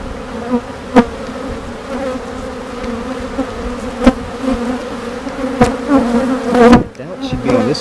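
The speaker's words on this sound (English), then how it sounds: "the bees are just hovering around all the nectar they're storing" Honeybees hover around a hive frame of stored nectar with a steady, close buzz throughout; a few louder wingbeat passes and soft knocks stand out, and no one speaks.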